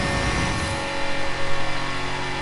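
A classic five-speed Lamborghini Miura in a racing video game revs hard near 7,000 RPM and shifts into fifth, a loud, sustained engine roar with a pulsing, wavering swell midway.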